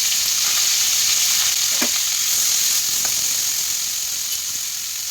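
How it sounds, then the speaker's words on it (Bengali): Bitter gourd frying in hot mustard oil over a tempering of dried red chillies and mustard seeds: a loud, continuous close-up sizzle and hiss with a couple of faint spatula taps. "প্রথমে আমি উচ্ছেটা ভেজে নেবো আগে"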